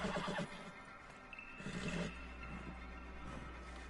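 A horse in a video game whinnies loudly at the start, then a second drawn-out neigh follows, over a low background hum.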